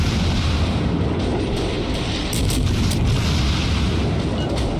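Naval gunfire in World of Warships, with a Tier IV American cruiser Phoenix firing on an enemy ship: a dense, continuous low rumble of booms and impacts, loud and sustained with no talk.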